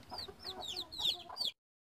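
Native chickens and chicks clucking and peeping close by, a run of short high chirps and soft clucks over about one and a half seconds, then silence.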